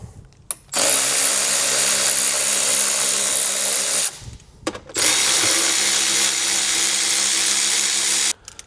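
A power tool removes 10mm bolts from the front bumper of a Tesla Model Y, running in two loud, sustained bursts of high whirring with short clicks and pauses between them.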